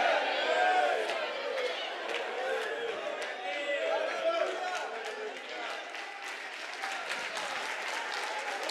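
A church congregation in João Pessoa claps and cheers in a loud, continuous wave, with a voice talking over the crowd noise throughout.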